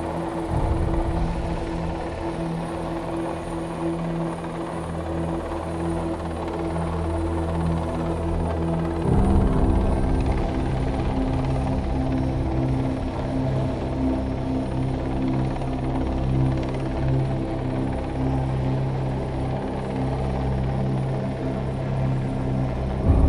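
A helicopter hovers over the sea during a regular training exercise, its continuous rotor thump and engine drone steady and loud throughout, with a slight shift in pitch midway.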